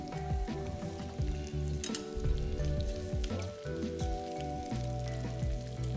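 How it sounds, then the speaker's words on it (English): Pork tonkatsu fries in a pan with a constant crackling sizzle and scattered pops, close and moderately loud, with no voices over it. "we will let that cook until we see a nice golden color on the underside"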